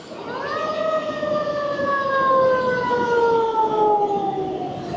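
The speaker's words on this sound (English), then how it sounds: "as we hear a siren go by" A loud siren rises and then holds a long, gradually falling wail as it passes along Pacific Coast Highway in Malibu, over a steady background rumble.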